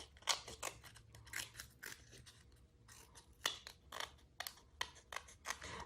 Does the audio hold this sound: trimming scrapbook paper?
yes